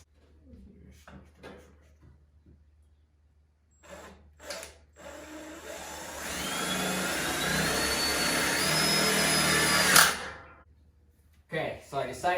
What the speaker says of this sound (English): Okay, so I have these self-tapping screws. These should work.